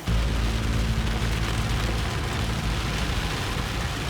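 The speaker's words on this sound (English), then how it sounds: "The rain has gotten extreme." Heavy rain pours down on a mountain road in Ilocos Sur, a loud, steady broadband roar with deep low rumble, continuous and close throughout, no voices.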